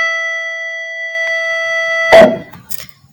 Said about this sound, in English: There's the alarm bell.